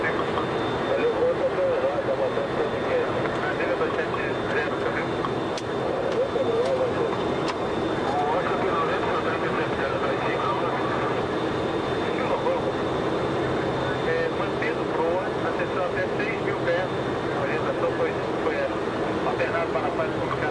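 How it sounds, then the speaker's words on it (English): Steady broadband roar inside the cabin of a VASP Boeing 737-200 climbing out of Tancredo Neves International Airport near Belo Horizonte, with a thin tonal whine riding over the continuous engine and airflow noise and muffled voices at times. "We are now climbing out of Tancredo Neves International Airport, which serves the city of Belo Horizonte, en route to Vitoria."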